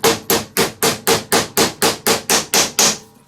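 A hammer gently taps a bearing into place on a McCallister electric scarifier during tine replacement, giving twelve evenly spaced, sharp metallic knocks at a steady rhythm, close and loud with nothing else heard.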